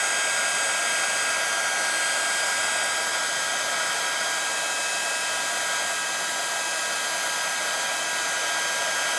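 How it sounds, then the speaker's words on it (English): A heat tool blows hot air over a Brusho dandelion artwork, producing a steady, close, unbroken whirring hiss with no pauses throughout. "don't whack the heat tool, just methodically move it round your arrangement"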